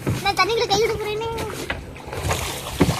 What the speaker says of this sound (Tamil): நான் தண்ணிக்குள்ள கை விட போறேனே.